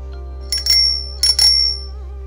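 A simple children's bicycle bell, wired onto the handlebar, rings twice in quick succession with bright metallic dings that hang briefly over a steady background hum.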